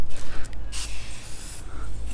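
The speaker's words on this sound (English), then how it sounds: "Just spray it on like that." Ammonia-free cleaner is sprayed onto a golf cart windshield spotted with rain marks, giving a few short, close hissing bursts from a spray bottle in quick succession.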